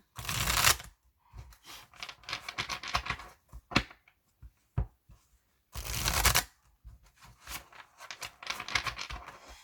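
Oracle cards are shuffled close by in repeated bursts of riffling and soft flicking, with short pauses and isolated taps between bursts and no talking.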